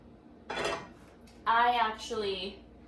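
A pan handled on the stove while oil goes in to cook shrimp, with two or three clear metallic clanks and scrapes of cookware, close and fairly loud in an otherwise quiet kitchen.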